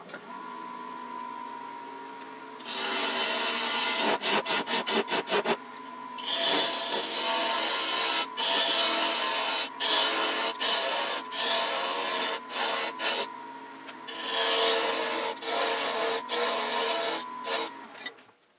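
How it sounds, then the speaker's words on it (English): A wood-turning tool edge, dulled by spalted wood, is sharpened on a grinder that makes a loud, continuous grinding rasp in repeated passes, with brief pauses and a steady motor whine underneath. "So let me sharpen this."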